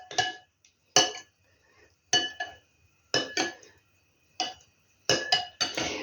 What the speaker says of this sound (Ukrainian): І знову розмішати.